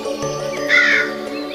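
A crow caws once as a sound effect in an animated fairy tale, a single bright, loud call heard over a steady musical background.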